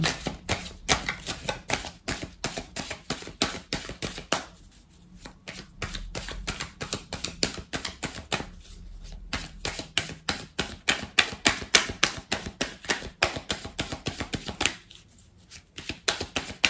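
A tarot or oracle deck is shuffled and cut by hand for a reading, giving dense rapid riffling and card slaps in quick bursts with short pauses, close and fairly soft.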